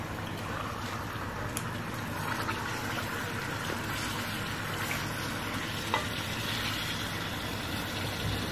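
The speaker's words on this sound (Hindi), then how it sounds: "और चिकन को फ्राई कर लेंगे" Chicken fries in oil in a kadai, a steady loud sizzle and crackle that holds at an even level throughout, with faint scraping now and then and no voices.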